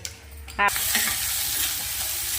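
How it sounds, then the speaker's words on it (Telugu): Onions, green chilies and rice fry in a pan, a steady close sizzle running throughout after a brief clatter of stirring near the start. "ఉల్లిపాయలు పచ్చిమిరకాయలు అన్నం వేపుతున్నాను"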